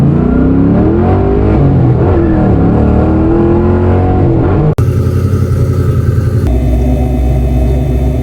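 A car exhaust with old-school Flowmaster Delta mufflers idles with a deep rumble, then revs hard into a loud, raspy, throaty roar that holds steady at high volume.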